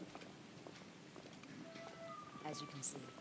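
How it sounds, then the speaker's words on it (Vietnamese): Steady rain falls through a street scene in the video game The Order: 1886, a soft continuous patter with faint footsteps and small clicks, while a person talks over it. "Trời mưa, khắp đường rất là trơn trượt"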